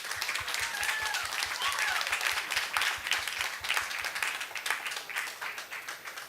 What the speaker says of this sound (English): please give up the panelists a round of applause